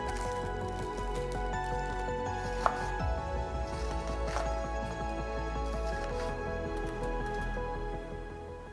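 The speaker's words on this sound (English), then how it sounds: "Three small carrots, roughly chopped." A knife chops small heirloom carrots on a board in a home kitchen, with a steady run of close, crisp taps and no voices.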